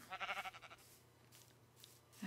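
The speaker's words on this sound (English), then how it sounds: "And there's a sheep." A single short sheep bleat in Minecraft, wavering and close, followed by quiet background and a faint soft shuffle at the end.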